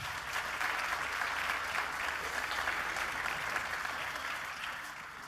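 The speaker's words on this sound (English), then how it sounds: "please, ladies and gentlemen, a big round of applause for our 4 survivors" An arena audience at a EuroLeague Final Four tipoff event applauds the four teams with a steady wash of many hands clapping, full and continuous from start to finish.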